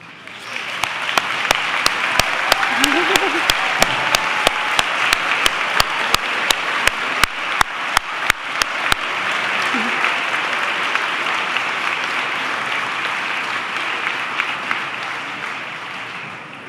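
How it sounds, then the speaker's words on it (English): A graduating class at Hanover High School Class Night Awards 2025 stands for a round of applause, a full, loud wash of clapping from a large crowd with sharp regular beats, sustained and gradually thinning toward the end. "Please stand as the whole class for a round of applause."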